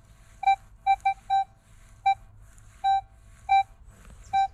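A Minelab X-Terra Pro metal detector sounds its target signal, a series of about ten short, clean tonal beeps in uneven groups, crisp and close over a quiet low hum.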